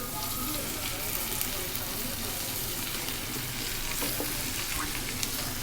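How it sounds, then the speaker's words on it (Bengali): Okra fries in hot oil in a pan, a dense, even crackling sizzle that stays close and loud throughout with slight stirring movement and no clear pauses. "এখন ঢেঁড়স ভাজিটা বসিয়ে দেব"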